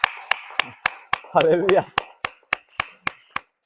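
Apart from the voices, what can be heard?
congregation applauding in church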